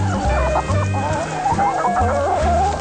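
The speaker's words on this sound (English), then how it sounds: "Look at that beautiful rooster there." A rooster clucks and crows loudly up close, a wavering throaty call repeating over a low rhythmic backdrop of other fowl sounds.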